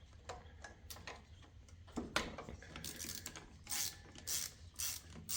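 A socket ratchet loosens a bolt on a Briggs and Stratton engine starter, giving bursts of close mechanical clicking and pawl ticks with clanks and scrapes of the tool and no talk.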